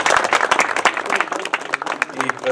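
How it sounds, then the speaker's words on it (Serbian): Audience applause at a poetry and art colony event, dense, lively clapping from a crowd filling the moment, close and steady. "Molim jedan aplauz jer je naporno radio."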